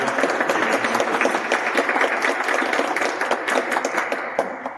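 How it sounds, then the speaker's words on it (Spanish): An audience at a talk on black holes applauds to welcome the speaker: many close, crisp claps form a dense, steady patter that tapers slightly toward the end, with no talking. "Por favor, un fuerte aplauso"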